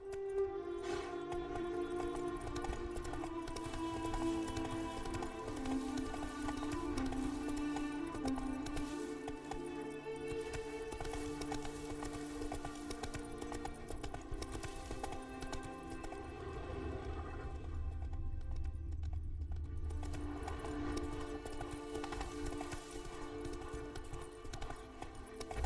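Roach the horse gallops in The Witcher 3, a quiet, steady clip-clop of hooves running on for the whole stretch under a sustained musical background, pausing briefly near the end.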